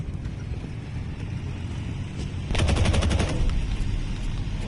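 Rapid machine-gun bursts from an aircraft in the Aces of Thunder flight combat game rattle loudly for about a second, standing out over a steady engine drone.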